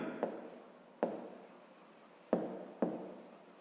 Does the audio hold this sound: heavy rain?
no